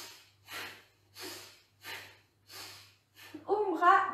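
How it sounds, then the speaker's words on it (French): Deep, rhythmic yoga breaths fill the space, five slow airy inhale-exhale cycles evenly spaced and close up, followed by a brief burst of a voice at the end over a faint low hum. "Vous voulez écouter votre respiration. Allez, c'est ça le son du yoga, la respiration"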